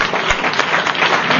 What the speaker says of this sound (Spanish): te damos otro aplauso por haber venido a esta casa